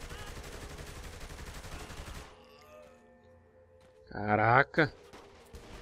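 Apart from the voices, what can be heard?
pistol gunfire in video game Saints Row: The Third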